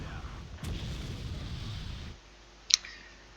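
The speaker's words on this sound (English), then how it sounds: "I will use my artillery to try to dislodge him." Artillery fire in a strategy video game thumps in a low rumbling barrage that fades out, then a single sharp crack pops near the end.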